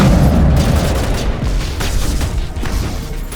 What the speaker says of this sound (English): This guy's shooting goo at me.